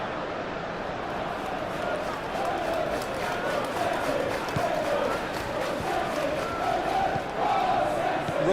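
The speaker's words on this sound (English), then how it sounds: "Maybe the crowd will stay a little quieter next time." A stadium crowd in the eFootball PES 21 video game, set at a Champions League match between Manchester City and Real Madrid, keeps up a steady roaring murmur with swells of chanting, while commentary runs over it.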